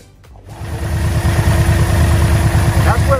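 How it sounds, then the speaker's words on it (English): A first-generation Yamaha Vmax motorcycle engine, checked for overheating in traffic, starts and settles into a steady, loud, close idle with a rhythmic low pulsing. "That's what it's gonna sound like with the engine on."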